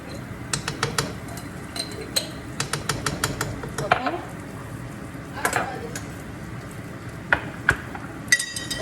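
Bun Bo Hue beef soup ingredients are stirred in a pot, with repeated clinks and scrapes of a utensil against the pot over a low sizzle.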